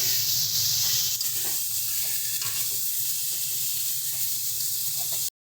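Chopped tomatoes sizzle as they are added to a pan of frying potatoes for a Bengali fish curry, a steady close frying hiss with light stirring throughout that cuts off abruptly at the end.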